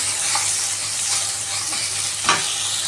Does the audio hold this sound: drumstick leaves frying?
yes